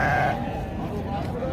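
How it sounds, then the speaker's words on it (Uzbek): Sheep and their lambs bleat at a livestock market, a couple of short calls near the start, with people talking nearby amid market bustle. "Yana qo'ylar bollari bilan ko'rsatib o'tamiz hozir."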